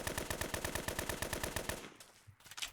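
A close-range gun in the video game Fallen fires a rapid automatic burst, a fast, steady stream of shots for nearly two seconds, then stops, followed by quieter clatter.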